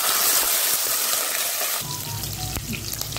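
Chopped green chillies fry in a pan for vangibath, a brinjal rice dish, giving a steady broadband sizzle that shifts to a busier crackle with a few sharp pops partway through, close and fairly loud.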